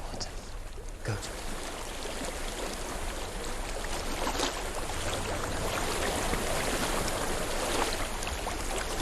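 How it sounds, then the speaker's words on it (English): Flowing stream water in the video game Hellblade: Senua's Sacrifice, a steady rushing wash that stays even and fairly loud throughout, with no voices over it. "I hear water."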